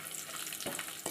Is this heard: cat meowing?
no